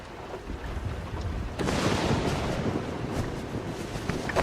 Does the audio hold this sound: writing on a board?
no